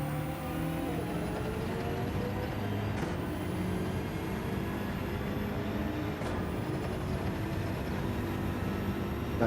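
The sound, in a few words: race car downshifting through gears in video game Gran Turismo 7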